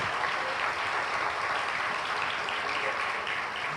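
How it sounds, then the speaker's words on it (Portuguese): A church congregation applauds the Lord during a Lord's Supper service, a dense, steady wash of many hands clapping at an even loudness throughout, with no voices standing out. "Pode aplaudir ao Senhor"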